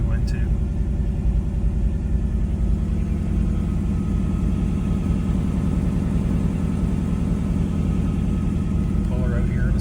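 A 2024 Mustang GT with the 5.0 V8 idles steadily nearby, giving a continuous deep rumbling burble throughout with a faint voice in the background.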